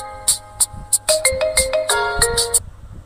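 A trending phone ringtone made as a KineMaster status clip: a loud, bright electronic melody with sharp chirping notes, playing alone for about three seconds.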